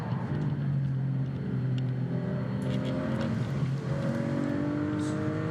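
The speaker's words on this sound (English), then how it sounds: "we will have the Ducati from 2003, the ex-Troy Bayliss MotoGP Ducati coming off the line very shortly." At the Goodwood Festival of Speed hill climb, engines drone loudly with shifting revving tones; the 2003 ex-Troy Bayliss Ducati MotoGP bike is due to launch off the start line.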